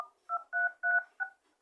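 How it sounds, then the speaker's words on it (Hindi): Touch tones from the dial pad of a Redmi Note 11 phone: four or five clear, evenly spaced beeps, each short, loud and close, with silence between them. "डायल पैड टोन्स, ये बटन को आप अगर ऑन रखेंगे तो आपका फोन का जो डायल पैड है, चलिए मैं दिखा देता हूँ। देखिए ये पैड पे साउंड होगा"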